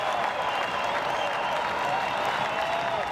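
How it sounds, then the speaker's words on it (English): Vanderbilt baseball crowd roaring and applauding, a dense, sustained wash of clapping and cheering from a large stadium audience, steady and loud across the whole moment. "And here comes that Vanderbilt crowd."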